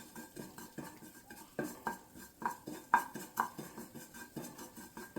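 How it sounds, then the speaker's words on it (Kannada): Sesame seeds roasted in a pan beside banana halwa, stirred with a metal spoon that scrapes and taps the pan in a steady, regular rhythm, close but faint. "ಇವಾಗ ಸೈಡಲ್ಲಿ ಸ್ವಲ್ಪ ರೋಸ್ಟ್ ಮಾಡ್ಕೊಳ್ಳೋಣ"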